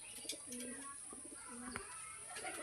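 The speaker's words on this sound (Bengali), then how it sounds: "তো বন্ধুরা পায়রা উড়িয়ে দিলাম" Pigeons, Teddy Rampuri breed, fly free after being let out of a cage, with soft low cooing in short repeated phrases over light background chirps and a steady high-pitched hum.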